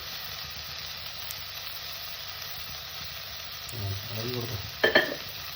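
Agathi flower thoran being stirred in a pan after salt is added, a steady close sizzle of frying with brief scraping stirs near the end and a short word spoken over it.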